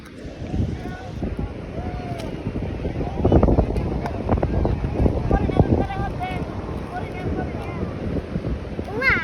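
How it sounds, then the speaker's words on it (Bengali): Wind gusts and breaking waves on the seashore at Cox's Bazar rumble continuously with buffeting wind on the microphone, while people talk nearby. "এখন আমি সমুদ্রে আছি।"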